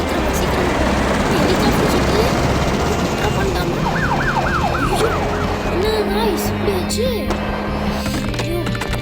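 A police car siren in a Spider-Man video game wails in repeated rising-and-falling sweeps, set against loud, constant game background noise with a voice talking over it.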